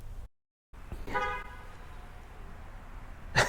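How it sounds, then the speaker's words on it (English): A horn toots once from a Honda Rebel 500 motorcycle carrying a passenger on the road, a short bright honk heard over steady wind and engine noise, preceded by a brief dropout. "Honks his horn."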